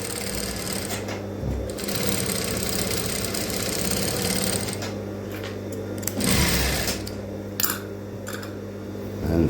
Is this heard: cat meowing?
no